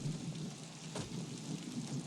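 Steady rain pours throughout with a brief low rumble of thunder in the middle, no voices present.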